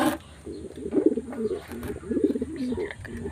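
Pigeons coo in soft, repeated throaty phrases at close range, several rounds of rolling calls over a quiet background with faint rustling.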